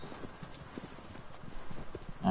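Horse hooves clip-clop in a steady rhythmic gait across the ground in Shadow of the Colossus, moderately close and alone, with a louder swell at the very end.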